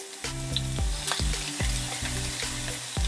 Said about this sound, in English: You want to hear that sizzling sound.